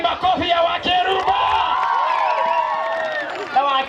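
A crowd cheering for Wakeruba, a burst of shouts, whoops and raised voices at close range, with overlapping yelling rather than distinct clapping, and a speaker talking over the noise.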